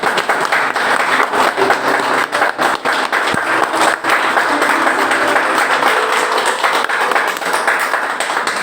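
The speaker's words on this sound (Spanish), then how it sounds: "Le pongo aplauso al Señor en esta hora." A church congregation claps loudly and continuously during a worship service, a dense sustained wash of hands with a few sharper taps, close and full, with faint voices mixed in.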